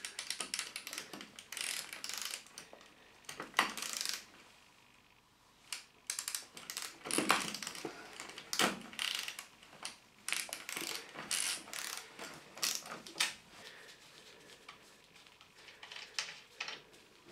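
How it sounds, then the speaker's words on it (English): Close, irregular ratchet clicks come in quick bursts as a Richmond universal socket is turned on a nut, with pauses between strokes and no talk. "So I'll now try the universal socket"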